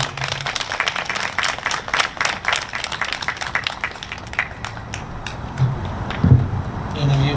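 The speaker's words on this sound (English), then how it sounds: "So could you give them a round of applause?" Audience applause at a groundbreaking ceremony rises as a dense stretch of clapping that thins toward the end, with some talk mixed in.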